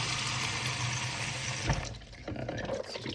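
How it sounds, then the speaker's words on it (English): Cold tap water running into a film developing tank during rinsing, a loud steady gush that cuts off abruptly partway through, followed by quieter sloshing and dripping. "we'll rinse it with cold water a few times"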